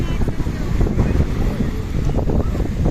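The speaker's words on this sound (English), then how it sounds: "Look how choppy it is out here and windy." Strong gusting wind buffets the microphone over rough water, a loud continuous rumble with choppy surges.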